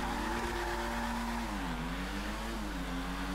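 Two Ocelot Pariah cars in GTA V launch from a wheel spin, engines droning loud and constant with rising and falling pitch as tires whine, no talk.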